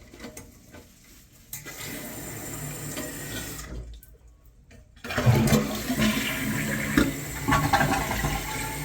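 A toilet flushes with a loud close rush of water, then the tank refills with a steady running hiss and gurgle during a plumbing service call.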